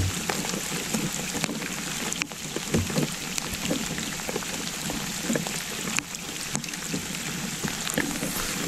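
Rain patters steadily on water and a boat while someone fishes, a dense, even hiss with scattered sharper drops and occasional soft knocks, continuous throughout.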